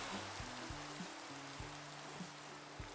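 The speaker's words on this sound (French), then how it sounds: "Oh, il pleut." Steady rain hisses in a survival video game on a desert island, an even wash of patter with no talk over it, under a faint low tonal background.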